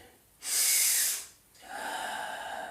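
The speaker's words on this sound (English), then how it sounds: "Nasal breathing." Air is drawn in through the nose during a nasal breathing exercise for circulation and blood pressure: one strong, hissing inhale is followed after a short pause by a softer, longer breath, close and clear.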